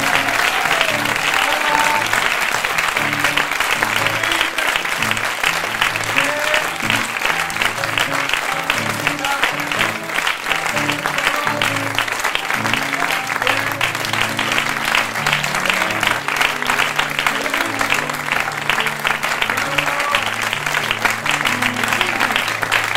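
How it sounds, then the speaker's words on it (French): Audience applause after a puppet improv show at Espace Job in Toulouse, a dense, steady round of clapping from a full room sustained for over twenty seconds without letting up. "je vous demande d'applaudir comme il le mérite"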